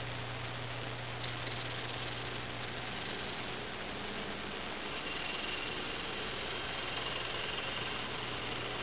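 Steady, continuous grinding roar of a gouge cutting a wooden platter spinning on a lathe, constant and loud without pauses.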